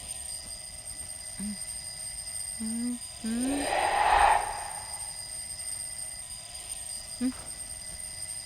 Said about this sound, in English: alarm is ringing. Put it off.